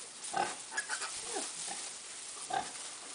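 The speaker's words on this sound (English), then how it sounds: "Want to play with the baby pigs?" Small pigs grunting and squealing in short, scattered bursts, close by, with quiet gaps between the snorts.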